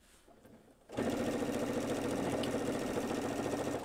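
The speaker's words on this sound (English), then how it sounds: "put my foot down, and now I can carry on sewing" A sewing machine stitching through layers of fabric and wadding for a machine cover starts after a quiet second, then runs in a continuous, loud, close-up whir to the end.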